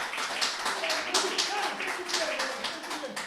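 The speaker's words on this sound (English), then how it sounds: "give a nice round of applause to Tyler Page" A live audience at a cantina-themed show gives Tyler Page a round of applause: scattered, rhythmic clapping from a modest crowd, fairly close, with some voices underneath.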